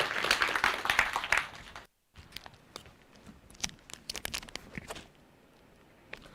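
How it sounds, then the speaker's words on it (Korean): Audience at an AI developer training program's project presentation gives a burst of clapping to welcome visiting labor ministry officials, a loud flurry that cuts off, then scattered lighter claps trailing away. "모두 같이 큰 박수로 환영해 주시기 바랍니다"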